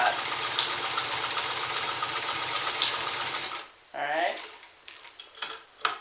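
A vintage Japanese Class 15 sewing machine stitches through eight layers of heavy canvas on a long stitch length, running steadily and loud before stopping, then a few mechanical clicks and handling noises and a brief spoken word.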